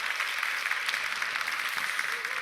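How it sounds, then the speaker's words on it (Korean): A church congregation at a youth prayer service applauds in a steady, moderately faint wash of clapping lasting the whole clip. "우리 옆에 있는 분에게 박수 치시려면 치세요."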